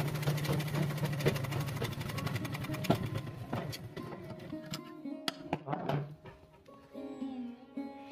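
Sewing machine running in bursts as it stitches the folded edge of a pillow cover, a steady mechanical whir near the mic, then slowing into short pauses and stops.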